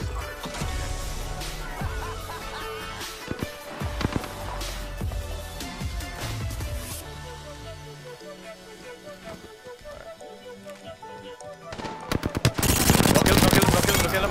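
Rapid gunfire in the video game Apex Legends, bursts of automatic weapon shots mixed with game effects and music, intensifying into a loud dense volley near the end.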